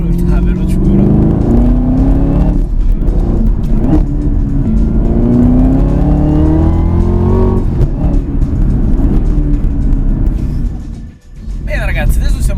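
A Chevrolet Camaro ZL1 1LE with a 650 hp engine pulls hard under throttle on the Pacific Coast Highway, its rising engine note loud and close inside the cabin, with a brief lift near the end before it picks up again.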